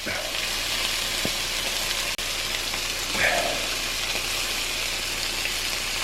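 BBQ chicken sizzling in a cast iron pan as sauce goes in, a steady loud hiss of frying throughout with a brief sharp tap and a short burst of bubbling partway through.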